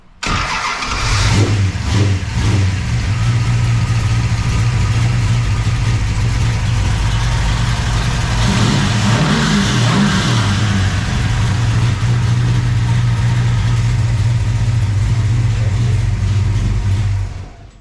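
A Plymouth Duster engine cranks briefly, catches and starts, then rumbles loud and close at a steady idle with a few throttle blips and revs mid-way, running continuously until it stops.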